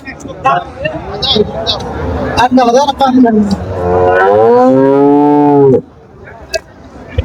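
A loud, drawn-out moo from a dairy cow at a market, close by, with people talking before and after it.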